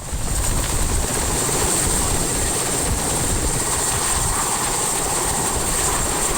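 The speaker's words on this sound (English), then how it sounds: "the team uses a 60s vintage Soviet-made helicopter to ferry people and supplies" A 1960s vintage Soviet-made helicopter flies high on a remote mountainside ferrying people and supplies, its engine whine and rotor roar forming a loud, continuous, steady drone throughout.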